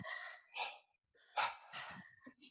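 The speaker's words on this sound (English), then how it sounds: "It's kind of circular breathing like this." Circular breathing during a breathwork session, a series of deep audible inhales and exhales in quick succession, close to the mic and alone, each breath a rushing gasp followed by a slower sighing release.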